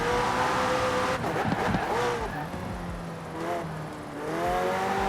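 A McLaren 600LT drives in Forza Horizon 4, its engine note rising and falling as it sweeps through corners, steady and fairly loud, with a brief dip in the middle and a voice faintly underneath.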